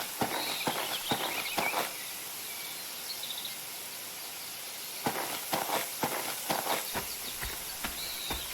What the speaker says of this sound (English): you have horses to ride